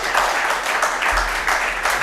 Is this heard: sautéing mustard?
no